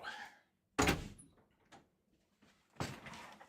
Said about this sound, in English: I'm going to open the door